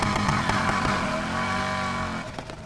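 A car launches off the line in a drag race in the NFS Heat video game, the engine roaring loud and steady at high revs throughout with slight variation toward the end, no talking.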